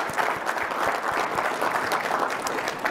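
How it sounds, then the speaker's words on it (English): An audience at a Linux Foundation keynote applauds, a dense, even wash of clapping from a large hall crowd that holds steady throughout. "I want to stop and give you all a big round of applause for continuing through the political headwinds."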